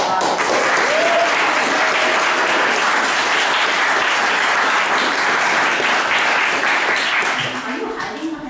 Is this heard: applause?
yes